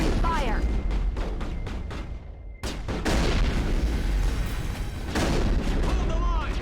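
A firefight in the video game Mass Effect: sharp gunshots crack in rapid bursts, loud and close, with a brief gap before heavy fire resumes under game voices.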